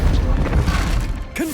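Confringo blasting spell in Hogwarts Legacy, a loud, close, deep booming explosion with rumbling crash that fills the moment, ending in a brief whooshing tail.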